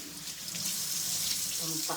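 Rice-washing water poured out for composting in a garden, a continuous splashing stream running steadily for a couple of seconds, fairly quiet and close.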